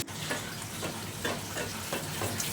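A jackfruit pitha fries in hot oil: a soft, steady bubbling sizzle, close and fairly quiet, with faint rhythmic crackles over a couple of seconds.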